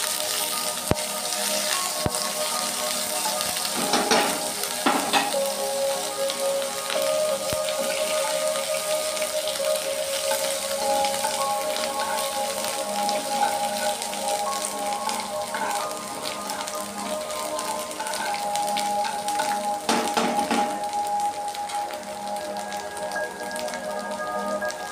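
Chopped ginger fries in hot oil in a pan for a home-style Bengali dish, giving a steady, close sizzling hiss with scattered crackles and pops throughout and no talking.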